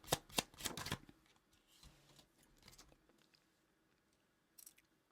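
Tarot cards shuffled in a few quick riffling bursts up close, then soft handling rustles and a faint final flutter near the end, with no talking.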